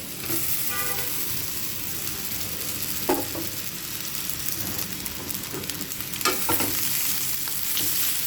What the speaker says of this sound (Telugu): బాగా కలిసే విధంగా కలుపుకోండి